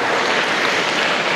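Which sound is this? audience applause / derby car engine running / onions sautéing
audience applause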